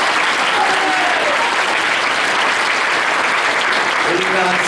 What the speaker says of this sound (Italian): facciamo un applauso di cuore